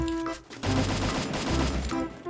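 Rapid bursts of gunfire in the Free Fire video game, a dense fusillade of shots over steady background game music and effects, loud throughout.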